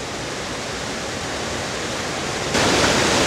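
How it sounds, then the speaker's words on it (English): Small waterfalls tumble through a creek gorge near Rangeley, Maine, giving a steady, close, broadband rush of water that swells a little louder partway through, with no voices. "Several little falls like that."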